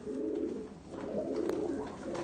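Several breeds of domestic pigeons in a loft coo close by in soft, throaty, rolling murmurs that overlap continuously, with no talk during the sound.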